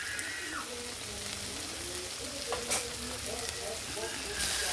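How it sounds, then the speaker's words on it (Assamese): Fish curry masala and sauce sizzle steadily in a hot pan, a soft continuous frying hiss with occasional stirring clicks and light pops. "মছলাখিনি চচখিনিৰ সৈতে আকৌ 1 মিনিট টাইম ফ্ৰাই কৰি ল'ম।"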